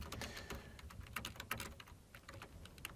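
Rapid clicking of a computer keyboard as code is typed into a blank module in Excel, a quick, irregular run of close keystrokes with no voices.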